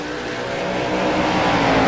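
Late model race cars roar past at Five Flags Speedway, their engines rising into a dense, loud, continuous drone that swells toward the end as the pack battles through the turns.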